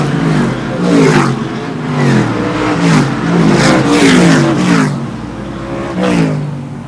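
Short track race cars roar past in repeated waves, engines revving up and fading in a loud rhythmic series of passes, nearby and sustained.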